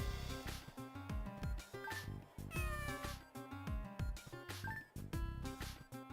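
Several cats meow repeatedly in the video game Phantasy Star 0, bright overlapping game cat cries over a rhythmic musical background, loud and continuous with no talk.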